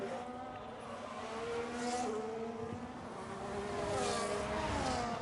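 Several race cars in a racing video game league pack together and head into the pits at the Las Vegas, USA circuit, with overlapping engine whines that rise and fall steadily through the moment at a moderate distance.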